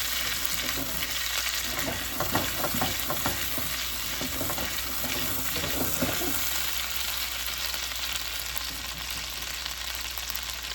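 Salmon sears in about half a stick of butter in a pan, making a loud, continuous sizzle with bursts of crackle and spatter early on that settle into an even hiss.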